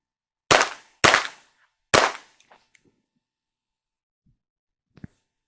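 Three sharp Springfield XD-M pistol shots ring out close together on an outdoor range, each a loud crack with a short decaying tail, followed by faint clicks and small clatters.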